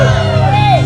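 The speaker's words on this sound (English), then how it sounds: "Let's get a Wrestle Club cheer." Fans at a Wrestle Club pro wrestling show at the Boise Comic Arts Festival shout and whoop in a brief, loud burst of overlapping voices close to the microphone.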